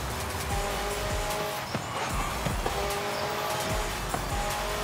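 A car engine roars steadily during a road race in Forza Horizon 5, with tires squealing through the turns and another car close by, heard alone without talk.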